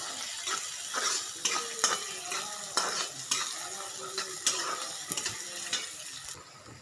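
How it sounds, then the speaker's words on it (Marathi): Onion stirred and fried in a pan for upma, with a steady sizzle under repeated scraping and clinking strokes of a spoon against the pan, close and fairly loud, with no talking. "ह्याला आता मस्त भाजून घेऊ कांद्याला."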